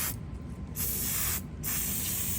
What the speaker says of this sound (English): I'm going to spray down that camshaft.